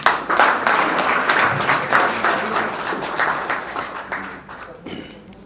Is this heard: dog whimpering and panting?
no